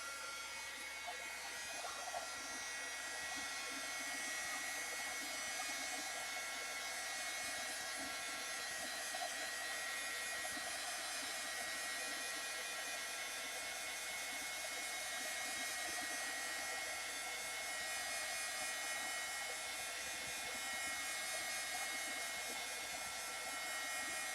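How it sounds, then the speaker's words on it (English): A heat gun blows steadily during a craft art-journaling session, a loud continuous whooshing roar with a faint electric whine that holds unbroken for the whole stretch, with no talking over it. "All right, I'm going to turn my heat gun on it."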